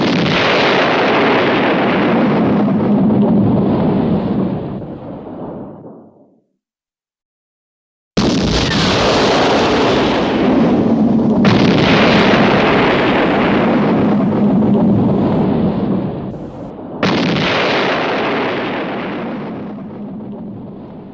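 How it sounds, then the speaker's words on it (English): Large explosion sound effects from the Cinesound library, used in Bond films, heard as three heavy booming blasts, each with a long rumbling decay, separated by a short silence. "Type 2 by the Cinesound library delivered a large explosion sound effect used in many films from the mid-1950s to the early 2000s"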